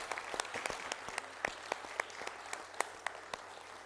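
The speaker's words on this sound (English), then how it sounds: "A round of applause, ladies and gentlemen." Applause from a small audience at a corporate launch event for an executive search firm in India, during a bouquet presentation; scattered individual claps stand out over a faint, thin patter, fairly quiet and distant.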